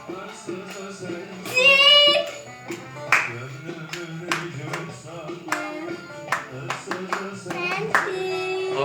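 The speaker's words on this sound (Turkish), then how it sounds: "alkış." People clap in scattered, uneven bursts at an entertainment gathering, mixed with singing and music. Several voices join in.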